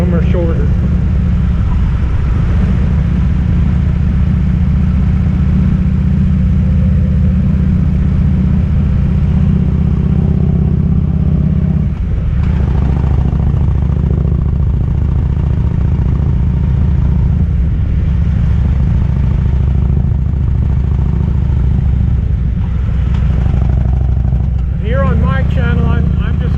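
Continuous engine rumble from a motorcycle out riding, loud and close with slight shifts in pitch as it accelerates and eases, with wind buffeting and a few faint clicks near the end.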